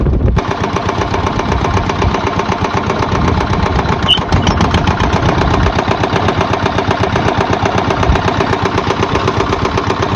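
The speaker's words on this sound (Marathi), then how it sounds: "तर हे अलीकडे तुम्ही बघता ते हे किर्लोस्कर इंजिन आहे" A Kirloskar diesel engine on a borewell motor removal machine runs nearby with a loud, rapid, rhythmic thumping that holds steady throughout.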